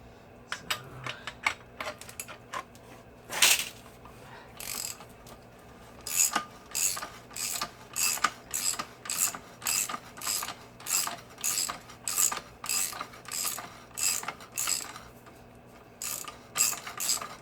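A ratchet tightens a replaced front strut on an MX-3 car, with close, crisp clicking bursts repeating in a steady rhythm of about one stroke per second after a few scattered clicks and knocks, no speech.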